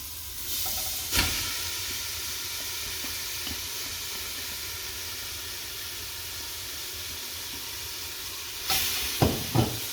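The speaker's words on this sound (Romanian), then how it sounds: "Haideți să turnăm și gulia." A pot of soup simmers with a steady soft hiss and sizzle as chopped kohlrabi goes in, with a brief clatter near the start and a few sharper knocks and splashes at the end, no talking.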